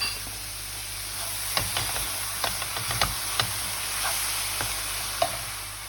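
Zucchini with dill sizzles steadily in a pan on the stove, with a close, even frying hiss and a scattering of light spoon scrapes and clinks as it is stirred.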